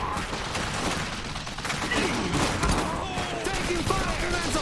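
Sustained machine gun fire in the mech strategy video game Iron Harvest, dense rattling volleys mixed with mechanical clanking and battle noise, continuous and fairly loud.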